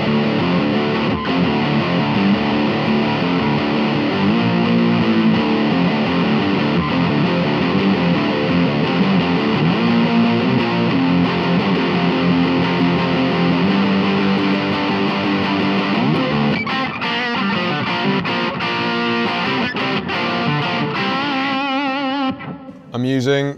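An electric guitar played with a humbucker through a Yamaha THR10-C amp at its highest gain setting gives a thick, distorted tone in sustained chords and riffs, loud and continuous, ending with a few choppy strums.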